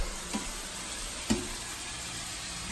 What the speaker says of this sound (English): you're going to be cooking on medium heat